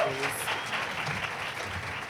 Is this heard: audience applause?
yes